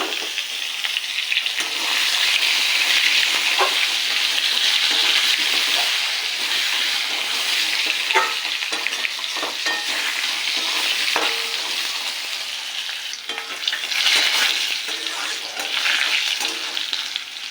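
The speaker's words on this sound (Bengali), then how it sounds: "আলুটা ভেজে নিয়েছি" Potato pieces fry in hot oil in a pan, giving a loud, continuous sizzle, while occasional stirring scrapes and soft knocks from the spoon rise over it.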